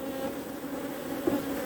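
A low, steady drone of honeybees buzzing around a small, weak colony with few bees, continuous and close, with no other sounds.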